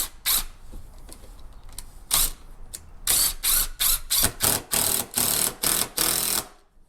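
A screw is driven into a wooden handrail at an angle into a stud, heard as a loud close power driver whirring in repeated short bursts, several rapid pulses in a row after a few earlier spurts, without speech.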